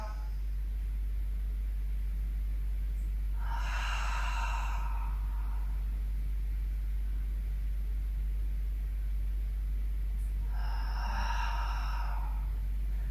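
Two long audible exhalations during a Pilates core and shoulder workout, each a breathy whoosh of about a second and a half, spaced several seconds apart over a constant low hum.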